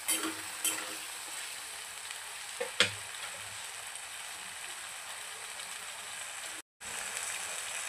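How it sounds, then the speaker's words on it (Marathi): Mutton pieces sauté in spice masala with a constant crackling sizzle, punctuated by a few sharp stirring scrapes early on and a brief dropout near the end. "मसाल्यामध्ये चांगलं आपल्याला हे परतून घ्यायचं आहे"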